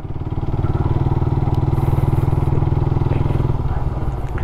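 A Suzuki Raider 150 motorcycle runs steadily close by while being ridden, its engine a loud, rapid, continuous putter with a slight rise and fall in revs.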